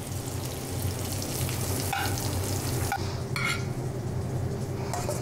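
Beets, mushrooms and ham hock searing in an oiled, buttered pan, a steady close sizzle with a few sharp clinks and scrapes of a utensil against the pan.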